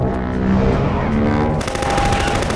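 Rapid machine-gun fire in Garry's Mod during a Godzilla versus Kong battle, loud and dense, continuous bursts that intensify in the second half, with some game tones and faint voices mixed in.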